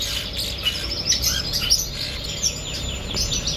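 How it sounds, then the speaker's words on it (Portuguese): Red-rumped parrots, a pair with an opaline green male and a rubino female, shown at an agricultural exhibition, give rapid high chirps and squawks over steady background noise from the surrounding hall. "Casal de Red Humped. Macho opalino verde com fêmea rubina."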